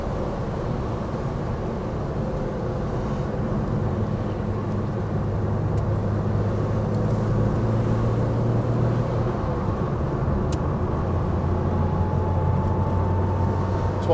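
A 1972 Porsche 911T cruises in fifth gear at about 40 mph, a steady low engine drone with road and wind rumble inside the cabin, continuous and even throughout with no talking.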